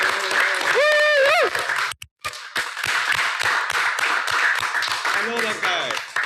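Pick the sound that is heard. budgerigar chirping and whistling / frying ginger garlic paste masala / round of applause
round of applause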